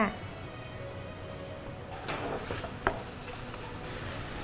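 Diced onions sizzle softly in hot olive oil for a ratatouille while a spoon stirs and scrapes the pan, and a voice talks over the frying.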